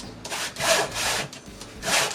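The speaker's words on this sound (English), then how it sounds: "One day I need to sharpen the goddamn saw." A dull hand saw cutting through wood in back-and-forth strokes, about four rasping passes with a steady rhythm, close by and alone without talk.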